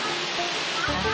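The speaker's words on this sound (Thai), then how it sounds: "เนี่ยน้ำตก" Waterfall at a campsite in Uthai Thani, Thailand, heard as a steady close rush of falling water, with a brief thump near the end.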